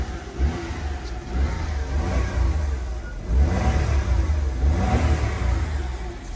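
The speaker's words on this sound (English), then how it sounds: "Give it a couple revs." A car engine revs up a couple of times over a low steady rumble, close by, with no voices.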